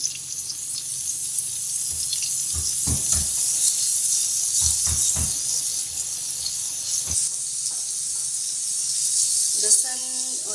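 Garlic-ginger paste fries in two tablespoons of hot oil over medium heat, giving a steady bright hiss and sizzle with occasional utensil knocks, and a brief voice near the end.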